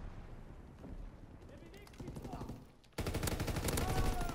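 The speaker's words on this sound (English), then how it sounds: "All I can use is these freaking machine guns." Machine gun fire in the World War II shooter game Call of Duty: WW II, heard as rapid automatic bursts that swell toward the end, loud and continuous.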